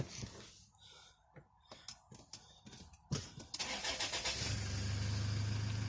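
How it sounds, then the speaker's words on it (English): A car fitted with an EasyGuard CarDot keyless universal alarm starts up after a run of faint clicks and handling noises, the engine catching sharply and settling into a steady, close idle hum. "Start the car."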